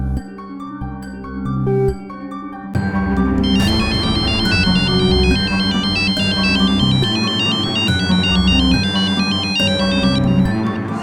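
Telephone ringing on an outgoing call, a repeating electronic ringtone melody that plays loud and steady over a low musical backing, continuing through the clip with no talking.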